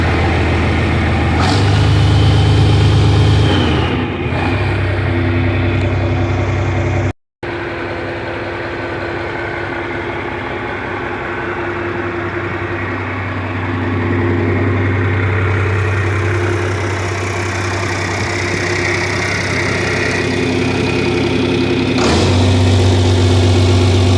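A 1971 John Deere 4320 tractor engine runs steadily at idle, a loud, close, even mechanical drone that holds for the whole stretch, broken by one brief dropout and a slight swell in revs near the middle.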